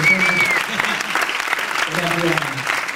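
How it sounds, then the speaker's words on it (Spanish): An audience applauds loudly and steadily at a stage presentation, crowd clapping continuous and close with voices and cheers mixed underneath. "un aplauso grande para ella"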